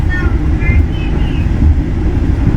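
Majapahit economy-class train running between Lemah Abang and Karawang stations, a loud steady low rumble of wheels and carriage with faint squeals early on, heard from inside the coach.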